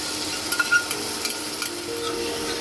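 A spice paste with grated ginger is stirred into a frying pan for a papad and paneer curry, giving soft scrapes and light taps over a faint, steady sizzle.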